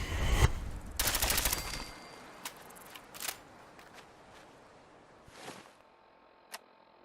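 Automatic gunfire from a modded gun in Fallout 4, a loud rapid burst in the first two seconds, then a few scattered sharp shots and clatters that fade toward quiet.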